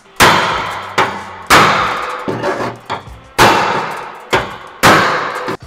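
Cheap sacrificial hammer beating sheet metal against a dolly during dent repair, six or seven loud ringing metallic blows spaced under a second apart, close and alone.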